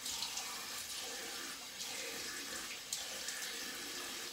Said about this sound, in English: now I'm putting cold water on because it's good for the feeling